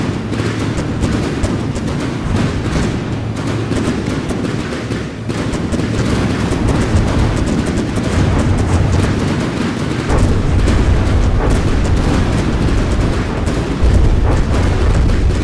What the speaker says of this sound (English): you can still see the heat particles are detonating against the shield and doing damage